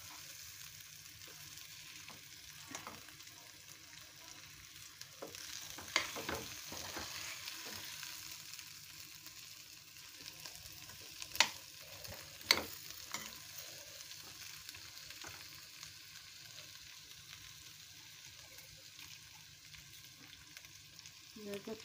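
Butter sizzles and fries as it is stirred into a pot of homemade red lentil soup, a soft continuous crackle with a few sharper spoon clinks against the pot.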